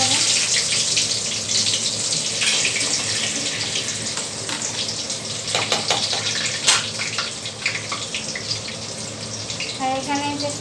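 Whole spices (a dried red chilli, cardamom, cloves, cinnamon and cumin seeds) hit hot white oil in a kadai for tempering, giving a close, steady sizzling hiss with scattered sharp crackles and pops throughout.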